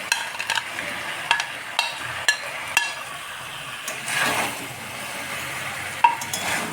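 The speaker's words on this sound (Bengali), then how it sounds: "ভালোভাবে নাড়াচাড়া করে নিতে হবে।" Fried vegetables for navratan sabji being stirred in a pan, with irregular clinks and scrapes of a spatula against metal over a soft background sizzle, no voices.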